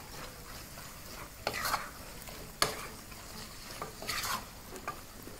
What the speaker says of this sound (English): So just proceed to mix those together